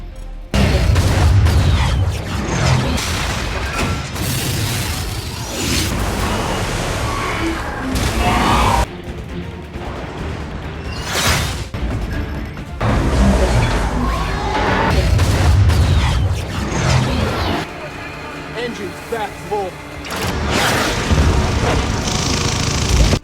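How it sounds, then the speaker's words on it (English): Missiles launch and explode in a naval battle between warships and an alien vessel, with booms and bursts layered over a dense, loud action-film soundtrack that swells through most of the scene and drops briefly a few times. "the USS John Paul Jones launched Tomahawk cruise missiles, but all of them were easily evaded by the alien warship"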